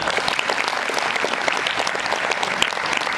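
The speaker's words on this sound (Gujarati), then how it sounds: "નંબર 2, હિંમત કરીને સ્ટેજ ઉપર આવી એના માટે જોરથી તાળી." A seated audience at a student camp gives loud, dense applause for a girl who came up on stage, a continuous close clatter of many hands clapping with no pause.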